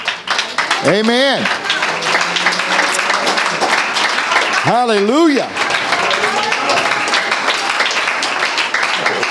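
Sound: congregation clapping hands in church

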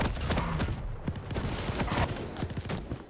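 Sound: heavy machine gun fire in a video game

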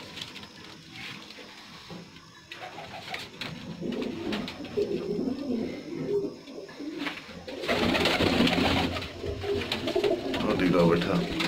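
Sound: pigeons cooing

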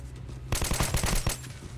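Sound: gunfire in the video game Metro 2033 Redux

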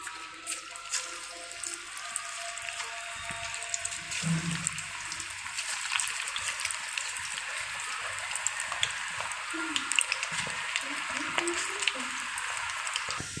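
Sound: plantain pakora batter frying in hot oil

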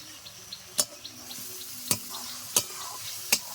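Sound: stirring and frying spice masala in pan

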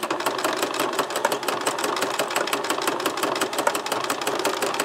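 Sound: sewing machine stitching back and forth

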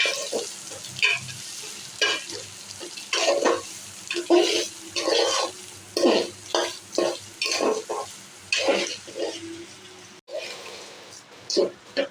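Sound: rice frying in a pan

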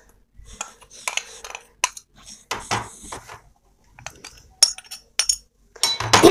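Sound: mixing instant jalebi batter in a bowl

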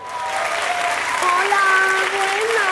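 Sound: applause from audience

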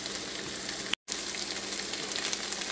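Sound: southern creamed corn with bacon frying in a pan

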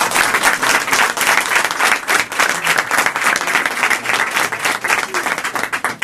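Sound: audience applause at street awards ceremony

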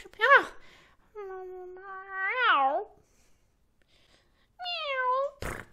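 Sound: voice imitating cat meow

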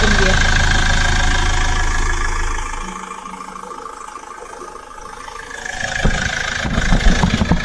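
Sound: caravan vehicle engine running

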